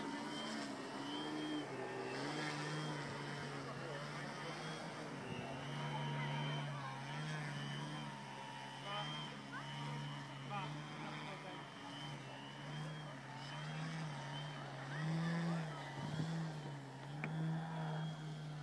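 A Hangar 9 Funtana RC plane with a DLE 20 gas engine comes in to land, its buzzing drone holding steady with slight pitch shifts throughout.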